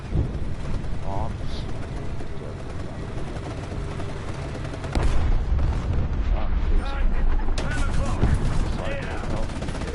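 Bombs exploding in the War Thunder tank game, a deep booming burst that swells into a loud, rumbling barrage of blasts over continuous battle noise, with a voice talking through it.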